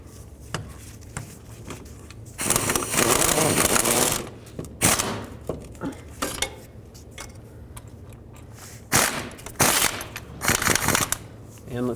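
Starter mounting bolts on a 2003-09 Toyota 4Runner are snugged up with a ratchet, giving rapid clicking bursts in several separate runs between quieter handling noises.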